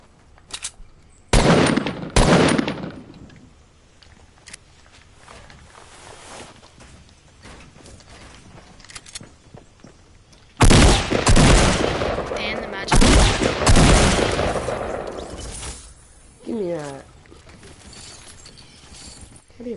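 Rapid SMG bursts rattle out in Fortnite, with a short volley early, then a long loud stretch of sustained automatic fire and more bursts, interspersed with quieter in-game footsteps and ambience.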